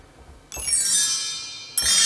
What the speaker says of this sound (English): Bell tree.